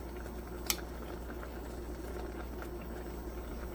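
Shin Ramyun ramen and bean sprouts simmering in a pot, a faint steady bubbling hiss with a single sharp clink near the start.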